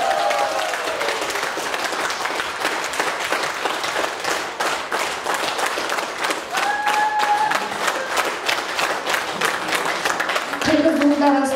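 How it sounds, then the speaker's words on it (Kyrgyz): Banquet guests in a restaurant applauding at a women's council anniversary celebration, loud sustained clapping from many hands with crowd noise, a few faint tonal sounds showing near the end. "Анда эмесе Мирбек мырзага кол чабуулар,"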